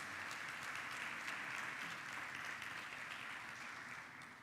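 Church congregation applauding steadily throughout, a dense wash of clapping that stays even before tapering slightly at the end, with no voices over it.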